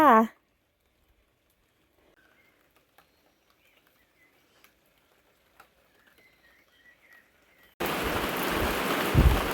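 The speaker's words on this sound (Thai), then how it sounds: "ฝนมาพอดีเลยพี่น้อง" Rain suddenly sweeps over a home vegetable garden in Sweden, a loud steady hiss of falling drops that bursts in after a long near-silent stretch with faint scattered ticks, following a brief moment of speech at the start.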